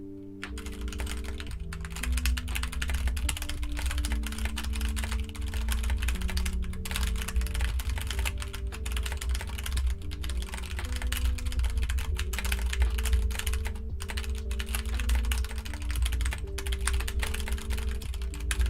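Rapid, steady computer keyboard typing during a Nitro Type racing game, a dense stream of close keystrokes running throughout over a low backing tune, with no voice.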